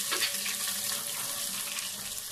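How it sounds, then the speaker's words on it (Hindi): Garlic ginger paste frying in hot oil, a steady, close hissing sizzle with faint stirring scrapes, continuous and alone. "इसको मैं ऑयल में फ्राई करूंगी, इसकी भुनाई करूंगी"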